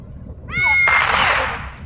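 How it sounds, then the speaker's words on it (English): Cats meowing as a sound effect in an audio drama, one close, drawn-out yowl rising into a harsh, noisy wail that fades out over about a second. "Cats! Dozens of cats!"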